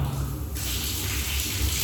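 Water runs from a tap at home while someone bathes. It is a loud, steady rush and splash that fills the whole stretch, with no talking.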